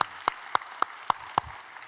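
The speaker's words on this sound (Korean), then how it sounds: "박수 박수" Six sharp, evenly spaced hand claps ring out in a church during a Wednesday worship service, a steady rhythmic clapping with quiet gaps between each clap.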